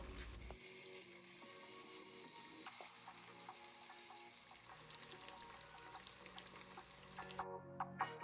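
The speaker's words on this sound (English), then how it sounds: "Now you want to allow this to fry for about 3 minutes on each side" Tofu fries in a pan with a continuous soft sizzle and crackle throughout, faint and close, with occasional small pops and clinks near the end and no voices.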